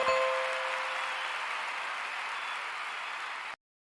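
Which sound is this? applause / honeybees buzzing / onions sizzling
applause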